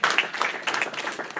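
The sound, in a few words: applause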